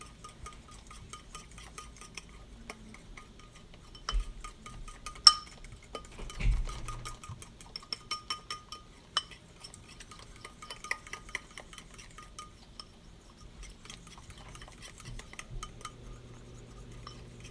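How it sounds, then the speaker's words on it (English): SlimFast crepe batter being stirred until no lumps remain, faint light clinks and taps of a utensil against a bowl in an irregular rhythm, quiet and close, no voices. "And you're just going to stir that until there's no lumps."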